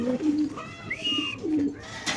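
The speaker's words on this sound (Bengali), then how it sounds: "খুব সুন্দর রেসার কবুতর দেখতে পাচ্ছেন মাশাআল্লাহ" A pair of large Kashmiri racer pigeons, one with a leg tag and one with a chip, coo softly in a cage, giving several low, drawn-out, rolling calls.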